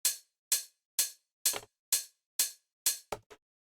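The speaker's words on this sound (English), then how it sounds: "this hi-hat sounds like this." A hi-hat sample from a drum track, used in a mix, ticks seven times at a steady even pace, crisp and bright with short decays, the last hits doubled with a quick follow-up.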